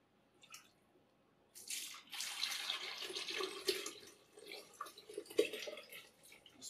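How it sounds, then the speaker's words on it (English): Hot turkey broth is poured into a blender container, a soft splashing and gurgling pour that starts after a brief drip and continues unevenly at low volume, alone. "I'm going to take this hot broth and pour it into our container, our blending container."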